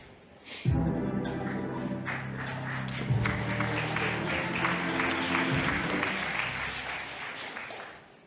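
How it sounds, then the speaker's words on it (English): An audience applauds a startup pitch at a founders' competition while a voice calls out over the start and music plays underneath. The clapping stays at a moderate, steady level before tapering off. "A round of applause for SimpleCharge"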